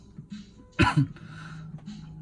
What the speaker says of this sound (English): sorry guys, coughing